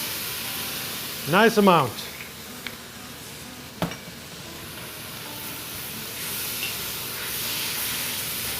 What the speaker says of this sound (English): I'm going to put some vinegar in there to deglaze the pan.